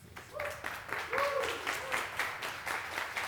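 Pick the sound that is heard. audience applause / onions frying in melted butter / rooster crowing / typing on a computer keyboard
audience applause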